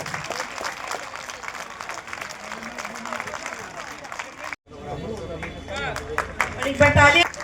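Audience applause at a formal gathering, a dense patter of clapping that drops out briefly and then resumes, with murmuring voices mixed in.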